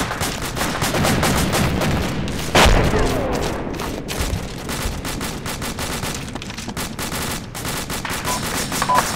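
Continuous automatic gunfire from the Arma 2 military game during a convoy fight, loud rapid bursts and rattling volleys overlapping with occasional heavier booms, almost no talk.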